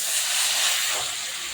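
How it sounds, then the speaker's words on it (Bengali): Pieces of fish slide into hot oil already used for frying fish, giving a steady, loud hissing sizzle that fills the short moment without pause. "তেল গরম হয়ে গেছে, দেখুন আমি মাছ দিয়ে দিচ্ছি"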